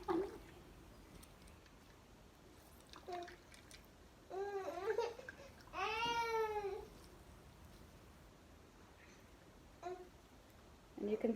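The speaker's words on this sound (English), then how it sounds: "you can hear my baby in the background" A baby babbles and makes squealing, cooing sounds in the background of a kitchen while celery is juiced with a blender, heard in a few short bursts that are fairly faint and separated by quiet gaps.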